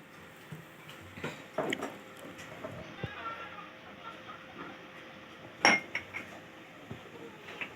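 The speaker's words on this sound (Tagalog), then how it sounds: "tinuturoan na po natin yan ng maghugas" A child washing dishes by hand with a sponge produces scattered clinks and clatters of utensils and plates, with one sharper clash near the end. Adults talk quietly in the background.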